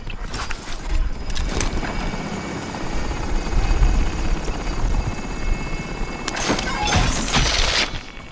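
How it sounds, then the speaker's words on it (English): A helicopter in Call of Duty Warzone thumps with a continuous rotor chop overhead, loud and close, with sharp bursts of crashing and breaking noise near the start and end. "Helicopter."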